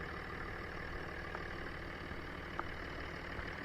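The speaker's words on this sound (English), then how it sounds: "We'll fire that up and we'll have a look around the engine bay as it warms up" A Jaguar car engine idles while warming up in the engine bay, a faint, steady low hum with a couple of small clicks and no talking.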